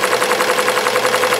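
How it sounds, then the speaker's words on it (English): An embroidery machine stitching a visor at 650 RPM with a sharp needle, giving a loud, steady rapid pulsing hum with even, regular beats, close and continuous. "We're embroidering it at 650 RPM using a sharp needle."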